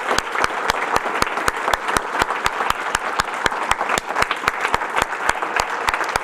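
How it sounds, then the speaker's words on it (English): An audience at an LGBTQ Veterans Day event claps for veterans, with sharp rhythmic beats running through the steady applause. "So let's give all of these veterans another round of applause."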